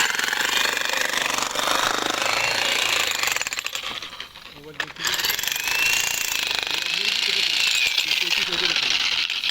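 Demolition machine hammering apart a building, a loud continuous pounding clatter that runs almost throughout, dips briefly near the middle, then resumes; voices are faintly present beneath the noise.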